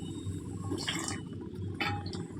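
Hot ginger water poured into a cooking pot, a soft liquid splash and trickle with a few light clinks of the vessel, quiet and close, no talking.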